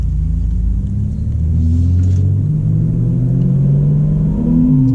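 A BMW M340i xDrive engine rumbles and climbs in pitch as it accelerates, loud and close, rising through gears with a deep, throaty tone.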